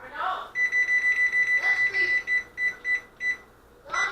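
An oven's control panel beeps repeatedly while the bake temperature and timer are being set, a quick run of short, evenly spaced electronic chirps that slow toward the end, with a voice talking lightly around them.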